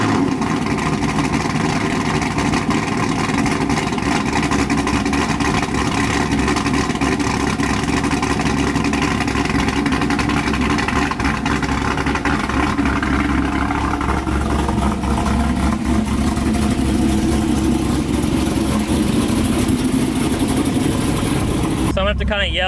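A Chevrolet C5 Corvette engine runs steadily as the car is pulled out on a hot, windy Texas day, a loud, constant idle drone with wind noise and a voice at times.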